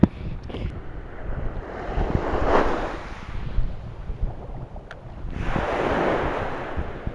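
Sea waves wash onto a coastal fishing shore at dawn on a rising tide. Two loud surges swell and break over a constant gusty wind rumble.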